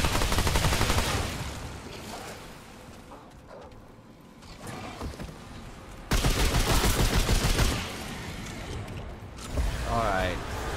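Rapid bursts of gunfire in the Remnant 2 video game, with loud clustered volleys at the start and again in the second half, quieter mechanical clatter in between.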